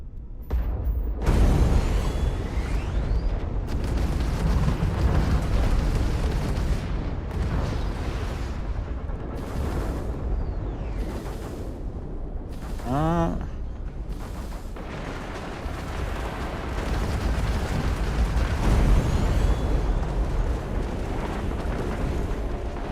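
Orbital strike explosions tearing apart an array in Starfield, a long run of loud, rumbling booms and blasts that continue with brief gaps throughout, with a rising whistle-like sweep partway through.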